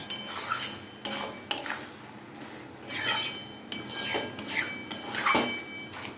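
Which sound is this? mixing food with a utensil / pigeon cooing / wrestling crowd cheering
mixing food with a utensil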